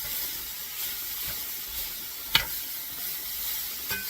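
Onions dropped into a hot pan with elk and pinto beans, a steady close sizzle under occasional scraping stirs of a utensil.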